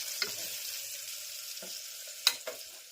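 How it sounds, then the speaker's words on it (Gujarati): Spices for tempering sizzle in hot oil while bitter gourd curry is cooked, giving a soft continuous frying hiss with a few sharper crackles and stirring clicks, fairly quiet and close, with no talk. "મસ્ત મજાનો વઘાર થઈ રહ્યો છે, જોઈ શકો છો."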